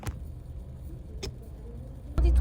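Cars pass in busy French street traffic, a low rumble with a few brief tire and engine swells and a louder close pass at the end.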